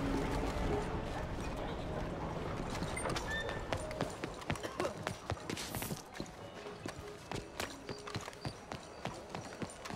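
Horse hooves clip-clop at a steady walking rhythm in Red Dead Redemption 2, the game's ambient sound thick at first and then thinning so that the regular hoof beats stand out clearly in the second half.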